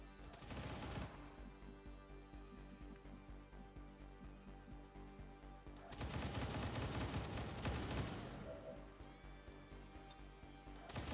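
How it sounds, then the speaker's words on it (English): Sniper rifle gunfire in XCOM 2 Long War of the Chosen, heard as loud broadband shot blasts: one near the start and a longer burst of firing midway, over a dense game soundtrack, with no talking. "we're gonna shoot with the sniper"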